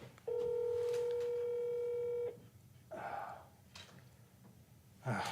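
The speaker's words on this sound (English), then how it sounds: "Should we just let it ring forever?" A phone line rings out unanswered, a steady tone pattern holding for about two seconds, followed by quieter room noise and faint murmurs.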